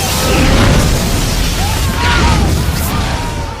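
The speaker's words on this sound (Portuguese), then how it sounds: "O Tony bota fogo em tudo por lá, tanto nos terroristas como nos armamentos deles" Fire and explosions from an Iron Man action scene, with the armored suit torching terrorists and their weapons: a loud, continuous roar of blasts and crackling that fills the whole stretch without letup.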